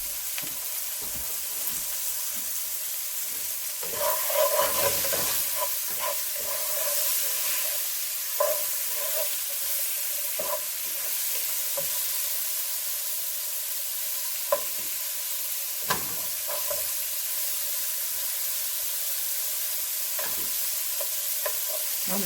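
Diced bell peppers and zucchini sizzle steadily in a hot pan, with occasional stirring clatter and scraping against the metal, close and alone for the whole stretch.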